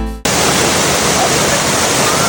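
Clear, cold stream water flowing in Japan, a loud dense continuous rushing wash heard close, steady throughout after a brief cut at the start.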